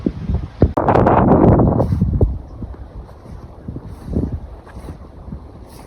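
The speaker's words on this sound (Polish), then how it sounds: "No jest wiatr." Gusty wind buffets the microphone, with a loud rushing burst early on that eases into a steadier low roar.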